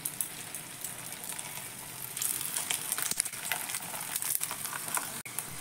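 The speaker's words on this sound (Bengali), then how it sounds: "ওই তেলের মধ্যে বাকি টিফিনগুলো ছেড়ে দিচ্ছি।" Balls of wheat-flour dough for a vegetarian tiffin snack go into hot oil, giving a steady, moderately loud crackling sizzle that grows busier partway through and carries on with no one talking.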